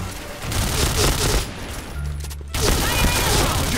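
Gunfire in the PB (Point Blank) shooter video game, dense loud bursts of rapid shots with a brief lull in the middle, then firing resumes.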